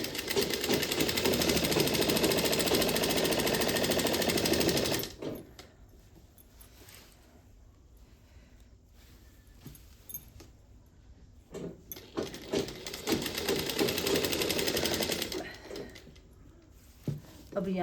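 Sewing machine stitches a straight silver seam up to a marked line, running in two loud, steady bursts of rapid mechanical whirring separated by a quieter pause with small handling sounds.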